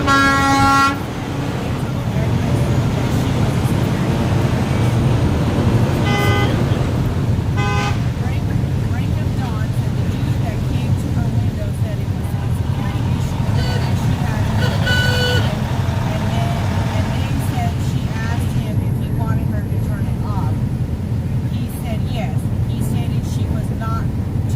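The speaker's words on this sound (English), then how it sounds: "see if we can get some good truck sounds here" Trucks in a highway protest convoy sound their horns, with sustained blasts and short toots over a constant roar of passing traffic and engines, loud and close, and some speech mixed in.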